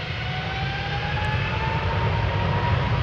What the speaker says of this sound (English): this is United Airlines flight 71. It's a 777-200 going to Newark.